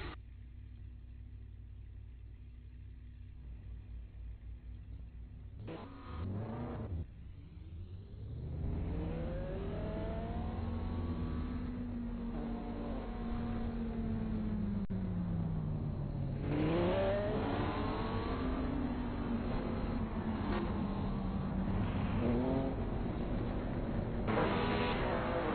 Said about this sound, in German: Die Piloten haben jetzt knappe 5 Minuten Zeit, hier in die Startaufstellung zu fahren.